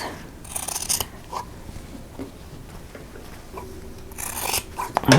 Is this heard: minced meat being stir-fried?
no